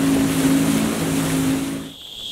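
Outboard motor of a small boat on the Tomo River in the Orinoco basin, a steady droning hum with water rushing past the hull, then easing off near the end.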